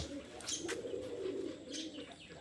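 Soft, low cooing from pigeons close by, with a couple of brief higher chirps mixed in over a quiet background.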